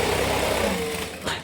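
A sewing machine runs steadily while top stitching along the top of a bag pocket, a continuous close mechanical whir that eases off near the end.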